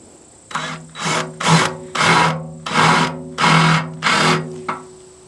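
A drill bores a larger hole through the steel loader bucket of a Farmall tractor, running in seven loud, close bursts with a steady tonal whine and brief pauses between them.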